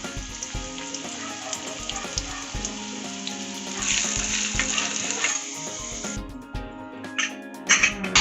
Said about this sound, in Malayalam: അല്പം ഓയിൽ ഒഴിച്ച് ചെറിയ ഉള്ളിയോ വലിയ ഉള്ളിയോ സ്വല്പം അരിഞ്ഞ് ചേർത്ത് നന്നായി വഴറ്റുക